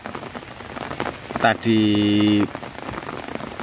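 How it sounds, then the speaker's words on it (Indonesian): Light morning drizzle patters softly and steadily in a garden, with a person speaking briefly over it and a short sustained tonal sound cutting in midway. "Ya gerimis seperti ini"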